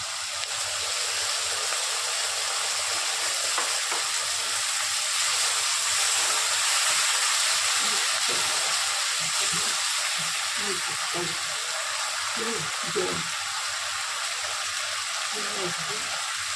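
Chilli chicken sizzling steadily in a hot pan as it is stirred and soy sauce is added, a constant loud frying hiss with faint scraping, while a person talks over it.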